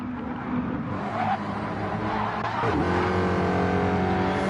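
Mustang touring cars in a racing video game slide sideways, engines droning loudly with a shifting pitch and tire squeal as a car passes close, continuous and without commentary.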